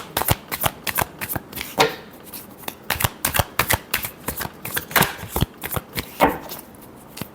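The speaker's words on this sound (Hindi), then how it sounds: "last shuffle" Tarot cards being shuffled, a long run of sharp riffling snaps and soft slides in uneven bursts, close and clear with no talking.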